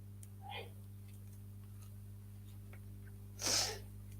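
A single sharp sneeze bursts out near the end, preceded by a faint sniff over a quiet background hum.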